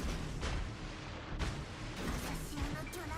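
Torpedo hits on a ship in a naval video game come as several heavy muffled booms and blasts spaced across a few seconds, fairly faint overall.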